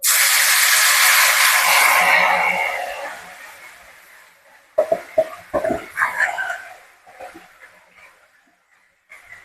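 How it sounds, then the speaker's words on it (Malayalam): Beef pieces frying in hot oil for a pickle give a loud, steady hiss that fades after a couple of seconds, followed by scattered pops and crackles. "അപ്പോൾ നമ്മൾ അവസാന ബാച്ച് ഇട്ടിട്ടുണ്ട്. അതൊന്ന് ഫ്രൈ ആയി വന്ന്"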